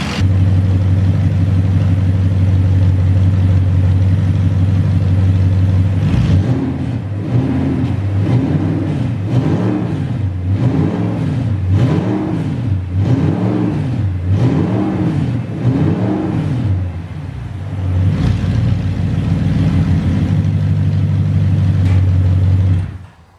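A rebuilt Audi R8 engine idles steadily, then is revved repeatedly in a run of rising and falling pulls before settling back to a smooth, loud idle.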